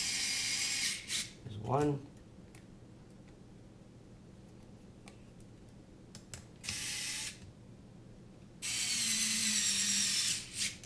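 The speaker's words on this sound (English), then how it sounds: "And tighten the arms down now." Tightening the arms on a TCMM Floss 210 drone racing frame with a hand tool, a few short ratcheting clicks and metallic bursts separated by quiet pauses, close and moderately loud, with someone talking briefly.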